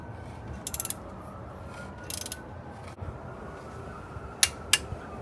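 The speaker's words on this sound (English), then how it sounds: "Now I need to torque them to 20 foot-pounds of torque." Torque wrench tightening crank pulley bolts on a BMW E92 M3, quick bursts of ratchet clicking with pauses, then two sharp clicks as the set torque is reached, faint and close in a quiet garage.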